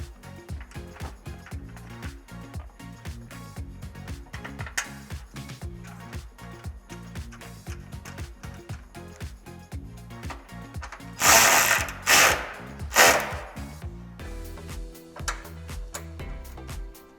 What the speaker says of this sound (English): Now secure your headlight with the stock hardware and a 10mm socket.